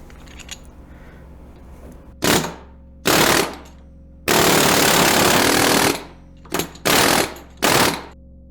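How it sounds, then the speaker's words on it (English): An air hammer pounds on an mpower off-road 2x1 light during a vibration torture test, firing in five loud, rapid bursts of hammering, one longer and the rest short, with a low mechanical hum between them and no talk. "The air hammer does jump around a bit."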